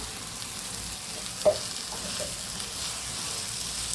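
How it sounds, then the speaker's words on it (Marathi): Eggplant frying in oil in a pan for a Maharashtrian brinjal curry, a steady soft sizzle with a brief clink near the middle, heard alone without talk. "टाकून त्याच्यात परत चांगले फ्राय होऊन द्यायचे"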